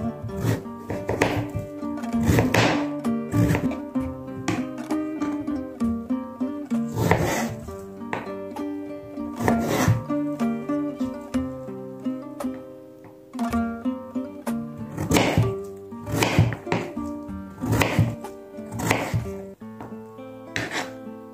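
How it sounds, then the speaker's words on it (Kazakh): A knife finely chops peeled pumpkin on a board for samsa filling. Bursts of quick, close strikes come in repeated runs with short pauses, over steady background music. "Қабақтың бәрін қабығын ашып алдық. Енді ұсақтап турап шығатын боламыз."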